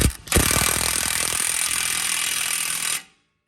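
An impact wrench hammers a lug nut tight on a Lexus IS300 SportCross, a loud continuous rattling burst of about three seconds that stops abruptly.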